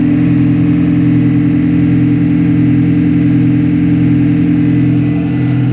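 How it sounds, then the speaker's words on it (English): An Audi A6 engine, during a DPF cleaning job, runs loud and close as a constant droning hum that holds steady throughout, with no voices over it. "If we rev the vehicle up, which you'll hear it"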